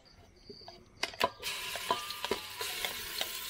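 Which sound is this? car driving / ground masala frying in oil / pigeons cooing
ground masala frying in oil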